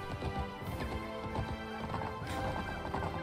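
A horse in a video game neighs and whinnies while its hooves clip-clop rapidly at close range, loud and continuous across the whole moment, with no voices.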